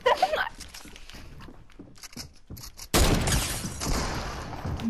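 Gunfire in a Fortnite battle royale match: a sudden loud shot cracks in after scattered quieter game sounds and light footsteps, followed by a dense burst of noise.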